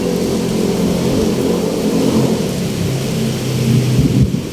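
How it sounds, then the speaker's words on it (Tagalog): A low rumble of thunder rolls under heavy rain, with a deep swelling roar that builds near the end over a constant hiss of rainfall. Traffic noise may blend into the low end, and no one speaks. "Oh, kumukulog pa."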